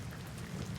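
Steady rain falls with a soft, even hiss and a low rumble underneath, faint and continuous over a brief moment.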